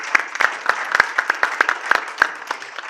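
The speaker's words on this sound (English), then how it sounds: "Let's give another round of applause for our speakers during this" Clapping at a conference session on mRNA and sustainability, where sharp individual claps ring out in an uneven rhythm, close and distinct, as if from a small group rather than a full hall.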